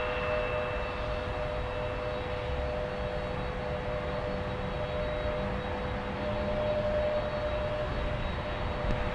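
Heavy jet airliner on approach to land on runway 12 right at Minneapolis–Saint Paul airport, a steady loud broadband engine roar with whining tonal lines holding throughout, swelling slightly toward the end, with no talking.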